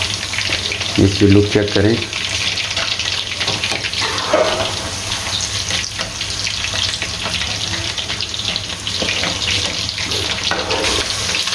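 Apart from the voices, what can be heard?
chicken frying in hot oil on high flame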